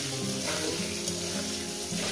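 Potatoes frying in hot oil seasoned with turmeric and salt give a steady, close sizzle that fills the whole stretch without pause, with a faint stirring scrape and no voices.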